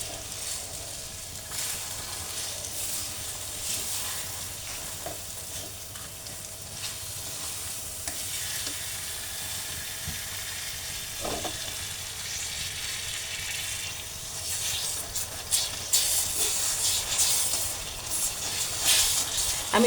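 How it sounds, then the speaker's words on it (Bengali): Sugar and vinegar stirred in a hot pan while cooking into caramel, a steady sizzle and hiss with scraping spoon movements throughout, growing busier toward the end. "এখন আমি এটাকে ভালো করে একটু লাড়া দিয়ে ক্যারামেল তৈরি করে নেব।"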